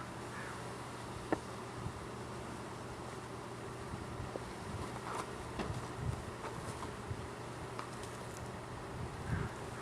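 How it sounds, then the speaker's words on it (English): Honey bees hum and buzz steadily around an open hive during an inspection, a faint continuous drone with occasional closer passes, no talk over it. "let me get the bees off this frame"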